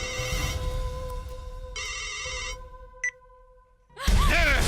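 A phone ringtone in a Bhojpuri film scene: two sustained electronic tonal bursts with a short beep after, then a louder voice-like sound breaks in at the end.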